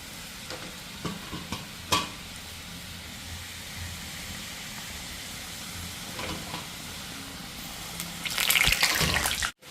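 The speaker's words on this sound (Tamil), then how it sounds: "இப்போ எண்ணெய் நல்லா கொதிச்சுட்டுது இப்போ பாருங்க அப்படியே போட்டு அப்படியே கவுக்க அப்படியே தான் விடுவோம்" Murukku dough fries in boiling oil with a steady, faint sizzle and occasional utensil clicks, building to a louder burst of bubbling near the end, with no one speaking.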